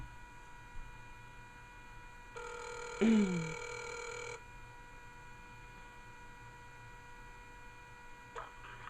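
A telephone rings over a speakerphone at a fashion show event, giving a single short electronic ring burst with a rising warble over a steady background hum, fairly faint and without talk.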